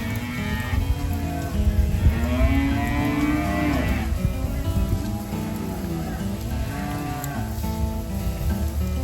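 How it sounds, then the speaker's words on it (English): Cattle mooing beside a river campground in Texas, with loud, drawn-out moos from several animals across the whole stretch over a steady background of rain or running water. "What a beautiful looking cow."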